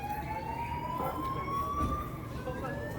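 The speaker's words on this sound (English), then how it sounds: "I heard the fire truck, so I think they're going to get here before it blows up" A fire truck siren wails at a distance, rising slowly in pitch as it draws toward a burning truck, heard over steady outdoor rumble.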